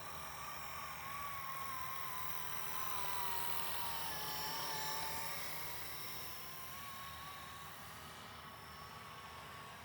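A Blade Eclipse 360 RC helicopter flies with a steady, high-pitched whine of motor and rotor that swells slightly and fades, fairly faint and unbroken, with no voices.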